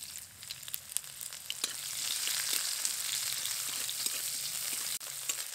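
Black cumin seeds and chopped onion hit a small amount of hot oil in a pan, giving a steady, bright sizzle that rises and holds with faint crackles and occasional stirring clicks, with no voices.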